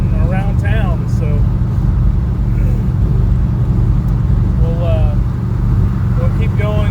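A Jeep cruises eastbound on the I-40 highway, giving a steady, loud engine and road drone with constant tire rumble and no letup, while someone talks over it at intervals.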